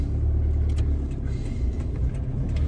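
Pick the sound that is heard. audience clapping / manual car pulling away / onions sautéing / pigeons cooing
manual car pulling away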